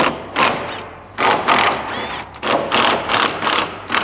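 Hand ratchet with a 13 mm socket loosening the exhaust hanger bolts under an A90 Toyota Supra, heard as several short bursts of rapid clicking separated by brief pauses, close and fairly loud with no talking.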